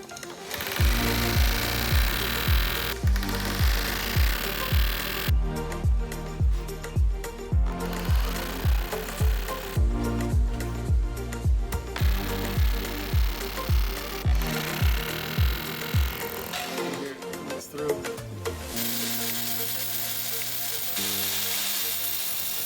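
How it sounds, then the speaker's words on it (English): An angle grinder fitted with a diamond blade cuts into the wall around an electrical box during a front porch light install, loud and close, pulsing in a rapid rhythmic chatter that stops and restarts several times. "we're going to put a diamond blade on our grinder"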